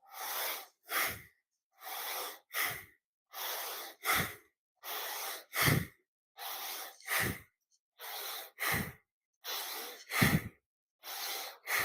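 Slow, deliberate breaths during a qigong breathing exercise, heard as about eight paired inhales and exhales, each a loud airy rush with a brief silence between, close and alone.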